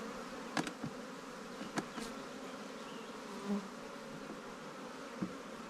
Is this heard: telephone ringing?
no